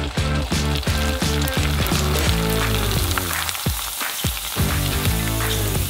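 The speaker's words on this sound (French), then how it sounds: "Tout ce que vous avez à faire, c'est de les plonger dans l'huile chaude et de regarder la magie opérer." Shrimp chips drop into hot oil and fry with a steady, bright sizzle and crackle, running continuously under loud rhythmic music throughout.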